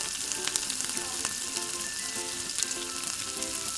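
Chopped banana flower and a little sugar sizzle steadily in a hot pan while being stirred, with a dense crackling hiss and occasional soft scrapes of the spoon, no voices.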